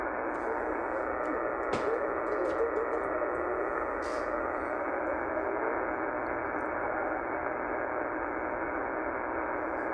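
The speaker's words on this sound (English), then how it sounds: "Sounds like there may be some AM broadcast down on the noise there." Steady hiss of shortwave radio static between 12000 and 13000 kHz fills the whole stretch, with a faint murmur of a distant AM broadcast buried in the noise and a few brief clicks.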